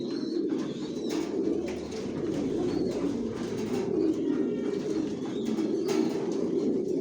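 Racing pigeons kept as breeding and racing pairs in a loft, a steady layered chorus of low cooing close by, with occasional wing flaps and clicks over the soft murmur.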